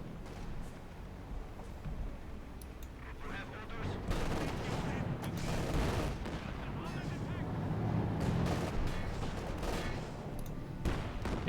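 Battle sounds in Company of Heroes 2, with scattered gunshots and booming blasts over a constant rumbling din of combat, moderately loud and dense, with no clear voices.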